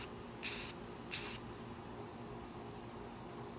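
Spray paint hisses onto a shelf in two short bursts, each a sharp, close hiss lasting under half a second over a low background hum.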